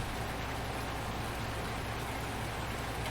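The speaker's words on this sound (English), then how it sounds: "And this rain is never ending." Steady, dense rain hisses evenly in the Farming Simulator 19 farming game, a constant wash of broadband patter with no pauses or other sounds standing out.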